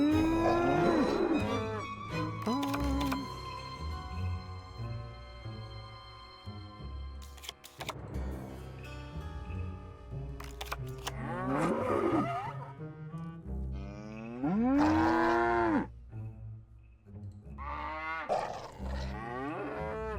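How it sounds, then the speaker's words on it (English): Cows in the video game Nancy Drew: The Captive Curse let out a series of loud, drawn-out moos, several calls following one another with short pauses between them. "Oh my goodness, the cow noises."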